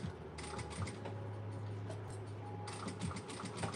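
A sewing machine stitching an up-cycled Gucci bag, running in steady rapid bursts of mechanical clatter with a brief pause partway through, close and fairly quiet, with no voices.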